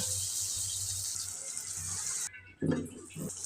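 Kitchen tap water runs steadily during cleaning up after cooking, a continuous hiss that stops briefly near the end, then clattering splashes resume close by.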